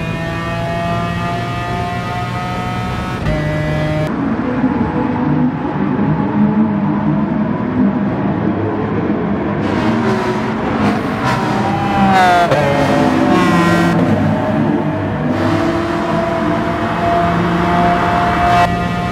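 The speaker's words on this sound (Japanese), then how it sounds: "元気なエンジン音が、" Race car engine in the video game Gran Turismo Sport, a loud continuous engine drone with rising and falling pitch as it accelerates and shifts gears, plus overlapping engine tones of other cars during the race.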